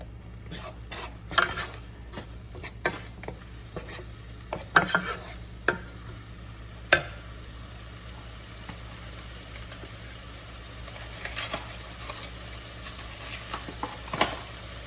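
Chili ingredients are stirred in a pan with olive oil, a utensil scraping and knocking against the metal in scattered bursts over a faint steady sizzle, close by, with no voices.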